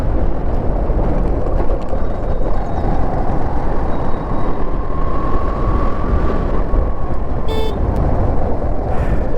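A local bus rumbles past on a village road, loud and close with a continuous engine drone, and a short horn toot sounds near the end.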